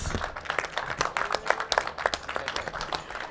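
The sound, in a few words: audience applause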